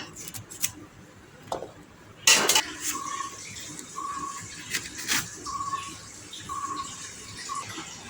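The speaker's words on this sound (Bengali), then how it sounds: "কাকি এখন পেয়ারাগুলো কেটে নিচ্ছে সুন্দরভাবে কুচকুচ করে" Guavas are chopped into small pieces with a knife, giving irregular crisp cuts and clicks against a surface, with a brief louder clatter partway through and quiet background in between.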